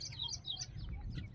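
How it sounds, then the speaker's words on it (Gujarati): Small birds chirp near ponds and fields in a rural village area, a few quick high tweets close together over a faint low rumble of wind, brief and fairly quiet. "જો પક્ષીઓ પણ મધુર કલરવ કરી રહ્યા છે"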